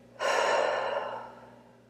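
A single long breath blown out by one person during a guided tapping relaxation exercise, rising sharply, holding steady, then tapering off softly, close and alone with no talking.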